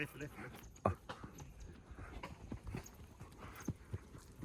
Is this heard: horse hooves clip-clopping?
yes